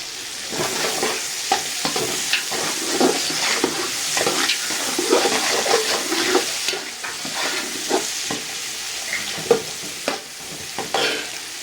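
Ginger garlic paste sizzles and fries in a pan for mutton dum biryani, with steady crackling and repeated scraping stir strokes close up, no voices.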